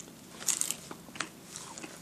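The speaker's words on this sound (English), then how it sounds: "that's the Pringles Crunch." Someone bites into a cinnamon sugar Pringles chip, giving a sharp, close crunch followed by a few smaller crackly chewing crunches, with no talk.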